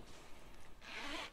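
A zipper on a Targus laptop sleeve drawn in one quick, close, bright zip near the end after a faint rustle, quiet overall with no talk.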